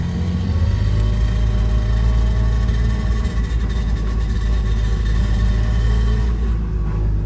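A small carbureted engine runs steadily for the whole stretch, a loud, close, continuous rumbling drone with a constant low-pitched hum and no real change in pace, and no talking.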